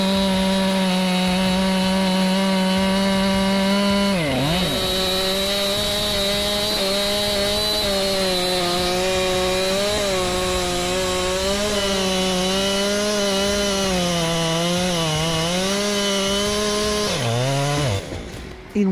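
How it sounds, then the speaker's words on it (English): A Husqvarna-style 592 XP chainsaw with a 90 cm bar cuts huge logs, a loud, close, sustained high-revving engine drone that dips briefly in pitch under load a few times before cutting off at the end. "592 XP chainsaw is a giant in the chainsaw world"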